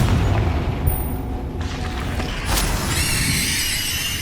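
Confringo spells blast in Hogwarts Legacy as a loud, dense rumbling explosion, followed by a bright crackling burst and lingering magical shimmer.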